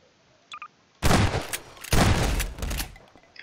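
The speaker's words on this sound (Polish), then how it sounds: "Jakieś strzały z pistoletu." Pistol shots in the video game Garry's Mod, two or three sharp, loud bursts of gunfire with a brief pause between them, after a couple of small beeps.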